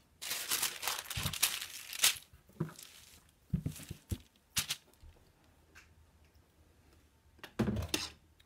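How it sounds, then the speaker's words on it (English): Parchment paper crinkled and handled while inking a t-shirt with Chalk Couture, giving a run of close, sharp rustling bursts with quieter gaps between them. "Again, I'm gonna use my parchment paper."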